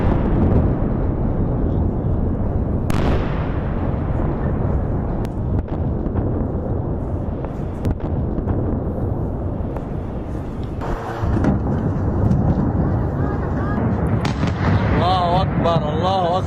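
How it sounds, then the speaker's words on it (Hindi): Bombing in Beirut, with dense, continuous rumbling blasts and booms, loud and sustained, with a sharp crack near the start and a shifting roar later, under some background voices. "देखा दर्शकों आपने कैसे बमबारी हो रही है"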